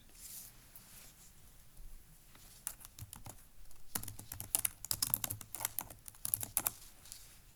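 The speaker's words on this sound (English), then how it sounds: "And then type in your name." Computer keyboard typing as a name is entered: a soft, close patter of key presses, sparse at first and then faster in uneven bursts, with no talk.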